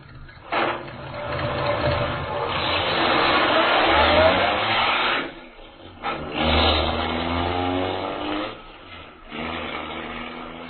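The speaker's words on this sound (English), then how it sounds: "Speeding away from the inn, Major Carroll is unaware that the wily Gottfried has sent him on a false trail" A car engine revs and accelerates away in a radio drama sound effect, rising loud and sustained, dropping briefly, then surging again over about ten seconds with no voices.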